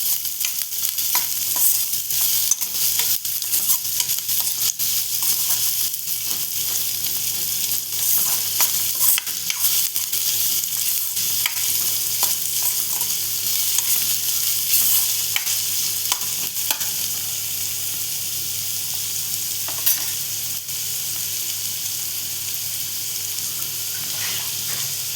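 Chopped onions fry in hot oil and get stirred continuously in a pan, a dense, steady sizzle with frequent scraping and clicking of the spoon, loud and close throughout.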